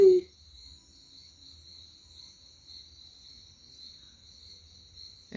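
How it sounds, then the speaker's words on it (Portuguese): Crickets chirp in the evening in wooded backyard surroundings: a steady, high, continuous trill that holds at a fairly faint level throughout, with no talking. "aí os grilos, os bichos começam a cri"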